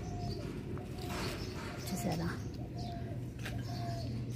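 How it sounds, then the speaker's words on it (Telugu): Doves coo in the morning around a rooftop kitchen garden. Soft, repeated coos sit low beneath a person talking, with small birds chirping faintly in the background. "అగో గువ్వ గూ అంటుంది."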